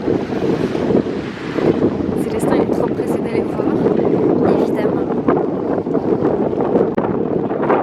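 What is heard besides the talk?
wind blowing by a lake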